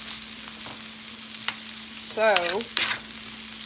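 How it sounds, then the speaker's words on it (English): Rice, onions, peppers and celery sauté in a pan for Creole chicken and rice, a steady low sizzle with scattered stirring scrapes and a brief voice near the end. "I've got my rice and my onions and peppers and celery sauteing in there now"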